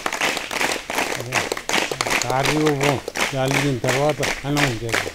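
School students clap together in a ragged burst of applause at a village school clothing distribution, with hand claps rattling throughout while a voice speaks over them.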